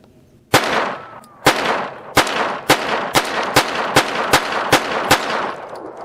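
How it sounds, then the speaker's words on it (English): Nine sharp gunshots from a Kel Tec P17 .22 pistol firing CCI Uppercut ammunition, loud and close, spaced at an even, fairly quick pace with a brief ringing tail after each shot and no talking. "we're going to start off with the Kel Tec P17."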